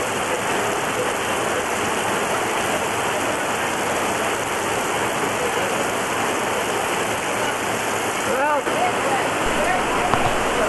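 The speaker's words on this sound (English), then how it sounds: "then it started to rain. Before I did it, it rained. It poured down" Heavy rain pours down steadily during a meal while cruising in Mexico, a dense, even hiss that fills the whole stretch without pause, close and fairly loud.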